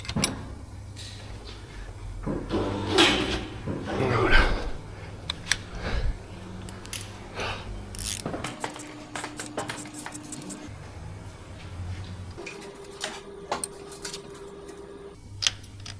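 Metallic clicks, ratchet ticks and tool clinks sound close up as the automatic tensioner is loosened and the eccentric pulley removed from a Citroen Xsara Picasso 2.0 HDI engine, irregular and fairly quiet, with a few brief whirring passes.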